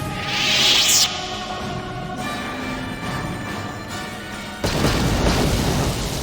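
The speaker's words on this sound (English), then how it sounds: "That's a bunch of grenades" A sharp, loud grenade blast in Star Wars: Knights of the Old Republic opens the stretch, followed by a lingering rumble and a second heavy detonation later on, up close.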